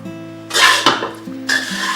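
Candied carrot and sugar are stirred in a wok with the heat off, giving two short bursts of scraping and rustling against steady background music.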